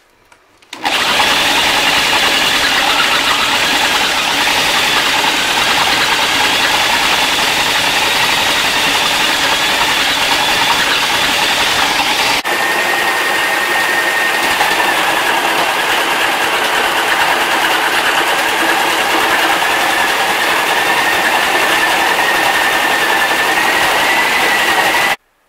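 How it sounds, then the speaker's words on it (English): An engine-driven mill crushes gold ore paydirt, a loud, continuous mechanical roar and grinding drone that starts abruptly and runs steadily for the full length, close by with no talking. "I'm done crushing up that 5 pounds of ore"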